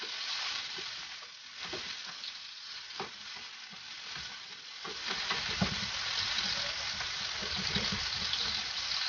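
Sliced chicken hotdogs fry with garlic in a pan, giving a steady hissing sizzle with occasional scraping stirs, the crackle growing fuller and louder partway through.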